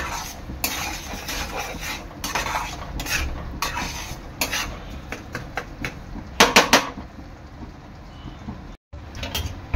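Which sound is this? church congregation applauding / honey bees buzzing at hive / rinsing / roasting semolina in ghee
roasting semolina in ghee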